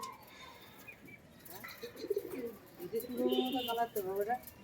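High-flyer pigeons kept for tournament flying coo softly in a loft, low throaty calls that grow busier toward the end, with someone talking nearby.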